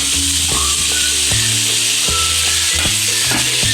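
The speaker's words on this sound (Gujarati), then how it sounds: "હવે તેલમાં આપણે જરીક સાતરી લેશું" Garlic sautés in oil in a pan for tanjariya greens, giving a loud, close, continuous sizzle with regular sharp scrapes and knocks of a spoon stirring against the pan.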